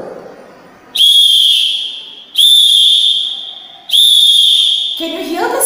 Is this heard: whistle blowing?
yes